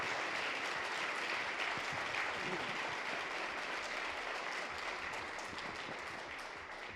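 An audience applauds at a talk on the macroeconomic situation and real estate. The clapping is dense and sustained, close and fairly loud, and fades slightly toward the end.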